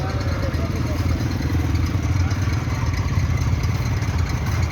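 A Massey Ferguson tractor engine, MF 360 or MF 375, stuck in water in a flooded harvest field, drones with a steady, loud mid-pitched chugging throughout, close and continuous.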